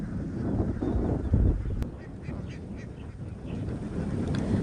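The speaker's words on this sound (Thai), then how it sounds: "เป็ดมากมายเลยจ้ะ" A large flock of laying ducks quacks continuously close by in an open rice field, calls overlapping against a rushing outdoor background.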